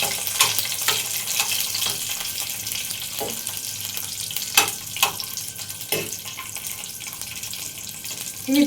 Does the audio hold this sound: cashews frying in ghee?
yes